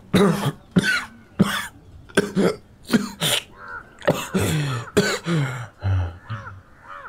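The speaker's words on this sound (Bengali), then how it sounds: "কাশির দমক বেরিয়ে আসে তার গলা চিরে" An old man coughs in a harsh, rasping fit within an audio story, with about nine loud, close bursts in uneven rhythm and no talk.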